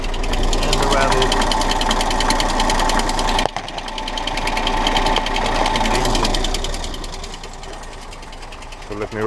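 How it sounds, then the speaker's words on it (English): Smart car engine with a rattle, heard up close from underneath as a steady, fast mechanical clatter over the running motor, with a voice talking over it. "The rattle is best heard from underneath."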